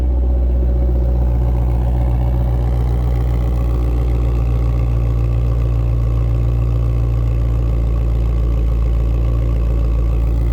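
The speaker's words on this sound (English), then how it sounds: "Give a little blip of the throttle so you get an idea what that sounds like." A 2021 Ford Mustang Shelby GT500 V8 rumbles close by at a loud, steady idle, its deep low throb holding even throughout with no voices over it.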